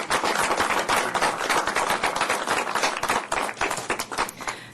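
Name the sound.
applause at city council meeting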